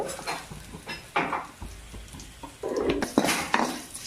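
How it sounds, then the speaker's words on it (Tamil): Garlic and curry leaves being sautéed in a pan. A spoon clatters and scrapes against the metal in short, irregular strokes over a faint sizzle. "பூண்டு போட்டு அப்படியே வதக்குங்க"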